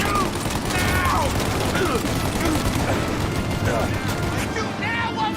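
Video game shootout with dense, continuous gunfire, a loud blanket of rapid shots and clattering mechanisms that fills the whole stretch, with shouted voices mixed in.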